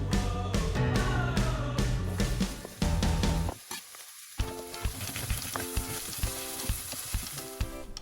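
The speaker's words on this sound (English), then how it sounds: "Heat up 2 tablespoons of oil and saute the onion till it's golden." Chopped onion sautéing in two tablespoons of hot oil for Persian-style macaroni, a continuous sizzle broken by clattering stirs and pan knocks, pausing briefly before the frying resumes.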